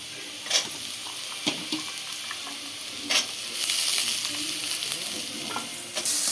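Chayote sautés in a little oil with a close, crackling sizzle, broken by a few sharp scrapes and stirring knocks from a utensil, and the frying hiss swells toward the end.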